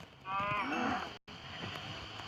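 A single low cow moo from Minecraft, close and fairly loud, over a steady background hiss, followed by a brief cut and continued ambient noise.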